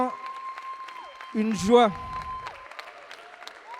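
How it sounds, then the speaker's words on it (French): An audience at a Pentecost church convention gives steady applause under a voice speaking and singing over it, the clapping soft and diffuse throughout. "une main d'acclamation au Seigneur pour sa vie"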